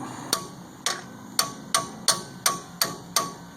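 Sharp metallic hammer strikes on truck brake parts during a Toyota Tundra rear brake job, eight evenly spaced ringing blows close to the listener, with no talk over them.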